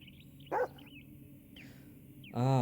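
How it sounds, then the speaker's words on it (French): A dog in the video game Yomawari: Night Alone gives two short, sharp barks toward a tunnel, with faint game tones and ambience between them. The second bark is louder and fuller. "le chien aboyait vers le tunnel parce qu'il sentait un truc chelou"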